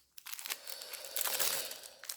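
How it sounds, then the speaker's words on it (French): Crinkly paper being crumpled and handled close by while packing an order, a continuous rustling crackle for about two seconds with no voices. "désolée pour le bruit du papier"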